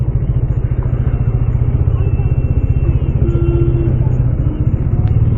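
A motorcycle engine thrums steadily during a ride, its low rapid firing pulses forming a continuous loud rumble over wind noise, with brief talk above it.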